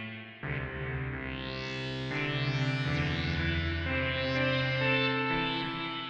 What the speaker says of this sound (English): let's crank up the reverb.